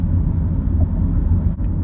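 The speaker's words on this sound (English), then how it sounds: "my test drive consisted of speeds around the neighborhood and up to 45 miles per hour" A 2011 Toyota Highlander on a neighborhood test drive after front and rear brake pad and rotor replacement, a steady low cabin rumble of engine and road noise, loud and continuous.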